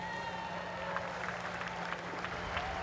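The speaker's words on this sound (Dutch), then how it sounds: "Jullie applaus voor Tijmen Nabuurs." Faint, steady applause from a crowd at a class 1 prize-giving for a Ford Fiesta Sprint Cup race at Zandvoort, with a low hum running underneath and some murmuring voices.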